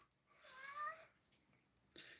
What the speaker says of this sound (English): Yep, Servo's still meowing